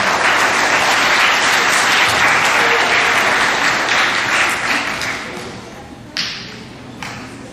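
Sustained audience applause at a middle school awards assembly, loud and dense for about five seconds before thinning into scattered claps and a few sharp taps near the end.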